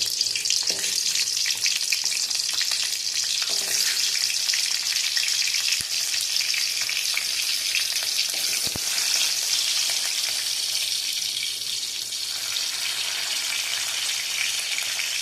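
Shallots, garlic and green chillies frying in hot oil in a kadai for chicken gravy, a loud, continuous hissing sizzle close by, with a couple of brief knocks and no speech.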